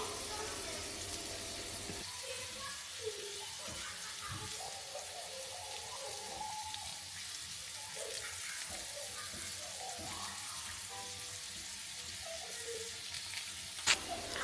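Potatoes frying in a breakfast skillet give a steady soft sizzle throughout, with faint scraping and stirring from flipping and a brief clink near the end.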